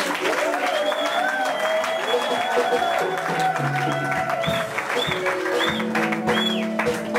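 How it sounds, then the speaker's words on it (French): Congregation at a church ordination ceremony applauding and cheering throughout, dense and sustained, with voices mixed in and music or singing tones running through it. "Si vous êtes bénis, acclamons encore le Seigneur."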